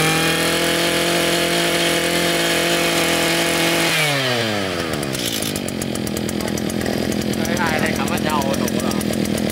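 A Kaaz Mitsubishi TLE48 47cc brush cutter engine runs loud and close, holding a steady high idle-like whine, then revving and dropping in pitch into a rougher, buzzing chainsaw-like drone with rapid fluctuations.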